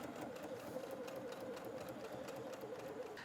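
A sewing machine hums in a steady, even run while tacking down a seam inside a quilted trucker hat, close and continuous with no talk.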